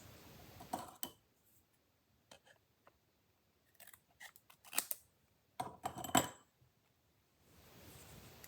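Scissors trim excess paper from a handmade card in a handful of crisp, close snips separated by quiet pauses, followed by faint rustling of paper.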